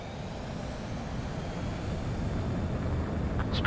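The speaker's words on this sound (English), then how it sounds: "The base commander's transport craft has taken off." Transport jet climbing away in Ace Combat 7, a broad rumbling engine roar that swells steadily louder, with a brief higher sound near the end.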